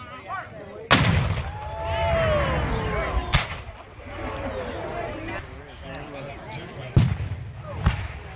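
Confederate artillery cannons fire at a Civil War battle reenactment at Narcoossee Mill. Several loud, booming blasts ring out at irregular intervals, with crowd noise and a person talking between the shots.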